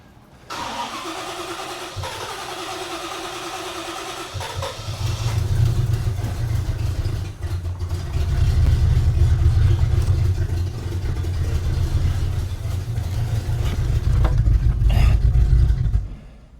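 A flood-damaged 1972 El Camino engine cranks, catches and settles into a rough, lumpy idle that swells louder partway through, recorded close and without speech.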